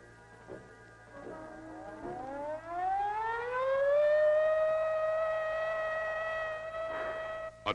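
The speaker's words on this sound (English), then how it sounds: "Attack warning came at 2015 hours." A civil defense siren sounds an attack warning, rising from a low tone to a loud, sustained wail. It holds steady at a distance and dips briefly near the end.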